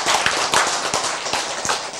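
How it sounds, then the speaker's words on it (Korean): A small audience claps irregularly in a lecture hall, a few sharp scattered claps and taps close by rather than full applause, with no talking. "어떤 분은 박수 치시기로 선택을 한 것 같고"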